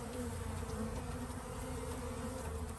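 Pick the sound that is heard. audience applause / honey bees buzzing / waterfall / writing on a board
honey bees buzzing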